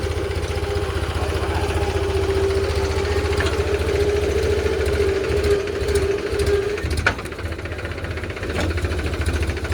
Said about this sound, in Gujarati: હવે ટ્રેક્ટર ચાલુ કરે છે